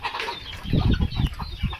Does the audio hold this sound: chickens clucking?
yes